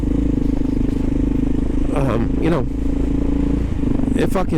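A Kawasaki KLR motorcycle engine drones steadily throughout while riding, a continuous close rumble with a voice talking over it in two short bursts.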